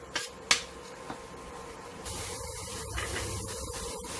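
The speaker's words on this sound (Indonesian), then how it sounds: "Kita tumis sampai bumbu ini menjadi matang." Spice paste sautéing in a hot pan for Indonesian cassava leaf curry (gulai daun singkong), a steady close sizzle and hiss that swells into a louder, continuous crackle halfway through, with a couple of sharp utensil taps early on.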